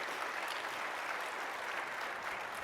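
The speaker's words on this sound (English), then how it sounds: "I appreciate the applause" Audience applause at a talk on healthcare innovation and integrated care, an even, continuous patter of clapping heard faintly at a distance throughout.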